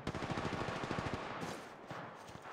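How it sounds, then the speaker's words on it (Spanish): Rapid automatic gunfire in the Apex Legends Mobile video game, a fast burst of closely spaced shots for over a second, then a trailing rattle and softer echoing noise. "¡Me disparan!"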